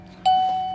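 A battery-powered wireless doorbell sounds a single sudden electronic chime tone that rings on and slowly fades, close and clear with no talking.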